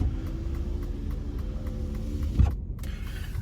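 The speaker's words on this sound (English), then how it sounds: "As I drive through the streets of Rome" A car drives through the streets of Rome, heard from inside as a steady low engine and road rumble with a brief thump near the end.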